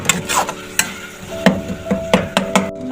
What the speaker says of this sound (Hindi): मसाले की अच्छी तरह से मैं बुनाई कर रही हूँ ताकि इसके अंदर फ्लेवर मिक्स हो जाए।